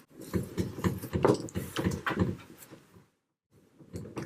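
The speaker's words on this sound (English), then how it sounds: "Do we have banging at the door?" A cat bangs against a door in a run of loud, irregular thumps and rattles lasting a few seconds, then a short silence before a few more knocks.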